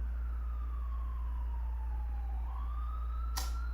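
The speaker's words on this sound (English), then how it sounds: "Listen to the sirens in the background." A wailing siren sweeps slowly down and then back up in pitch over a constant low engine rumble, sounding somewhat distant; a brief sharp noise lands near the end.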